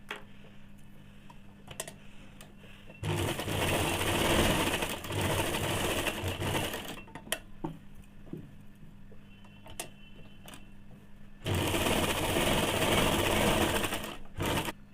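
A sewing machine stitches the hems of a semi salwar in two separate close bursts, each a few seconds long. Quieter handling clicks fill the gaps between them, and no one speaks.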